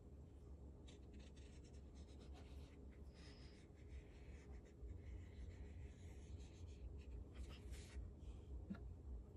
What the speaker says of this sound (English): Draw the mouth first.